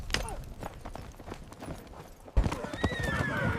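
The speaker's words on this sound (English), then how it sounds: "Horses rear and snort under sudden pressure, riders struggling to maintain control." Horses in a battle gallop with rapid clip-clopping hooves and whinny, the sound turning louder and busier partway through, with voices mixed in.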